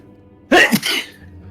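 A single loud, sharp sneeze bursts out close to the microphone during a tabletop Dungeons & Dragons game session, then fades into near silence.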